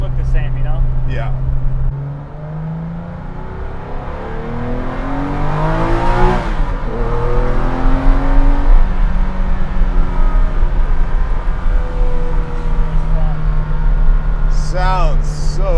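A Porsche Baja 911 trophy truck with a GT3 exhaust muffler revs up close, rising and falling in long sweeping pulls over a steady idle, with people talking nearby.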